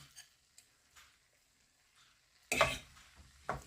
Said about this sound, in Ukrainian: висипаємо сюди сир і розмішуємо